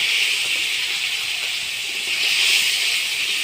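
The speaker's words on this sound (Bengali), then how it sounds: "পুঁটি মাছগুলো ভাজি করে নেব" Puti fish sizzling in hot oil in a wok, a steady, loud, continuous hiss that holds evenly throughout with no talk.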